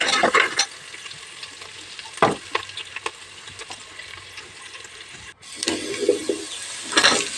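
Cinnamon pieces and cloves dropped into hot oil for egg biryani, giving a loud, close sizzle that flares in bursts with stirring scrapes and settles into steady frying.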